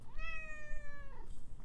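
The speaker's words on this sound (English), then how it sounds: "she's not performing, but she's going to meow soon" A pet cat gives a single clear, drawn-out meow, rising then gently falling over about a second, close and distinct against a quiet room hum.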